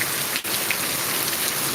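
Heavy rain pours in a dense, constant hiss of drops on surfaces, close and loud, with a single brief thump partway through.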